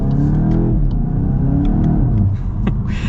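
A 2024 Volkswagen GTI with a DSG gearbox accelerating hard, its engine note rising in a loud, close rumble with a quick gear change partway through, heard from inside the car without talk.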